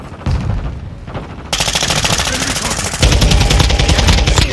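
Rapid automatic gunfire from a TAQ-56 rifle in Call of Duty, starting with scattered shots and then turning into a loud, continuous burst that grows heavier toward the end.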